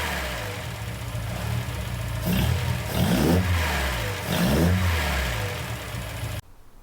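A car engine revs hard at full throttle, rising and falling in pitch through several sweeps, loud and close, and then it cuts off abruptly at the end.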